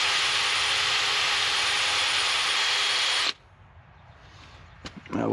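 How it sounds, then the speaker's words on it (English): A drill-driven wire wheel whirs loudly against a new brake rotor for a Ford F250 for about three seconds, then cuts off abruptly, leaving quiet with a few small clinks. "I did say I was going to wire wheel these, so we'll do that real quick"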